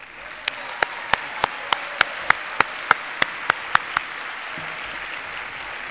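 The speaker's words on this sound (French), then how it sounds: "je propose qu'on fasse un grand applaudissement pour les parents" A series of about a dozen sharp, evenly spaced claps ring out loudly at an EMLYON graduation ceremony, then stop, leaving quiet room tone.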